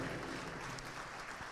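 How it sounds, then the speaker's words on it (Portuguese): A church congregation applauds during a service, a brief, faint, even patter of clapping that carries across the room without voices over it. "aplaudindo a Jesus, porque Ele é bom"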